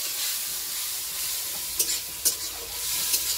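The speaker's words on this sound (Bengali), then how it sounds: "মশলাটা ভালো করে কষাচ্ছি।" Spice masala with chili is sautéed in a pan, giving a steady hissing sizzle with a few sharp scrapes and taps from a stirring spoon.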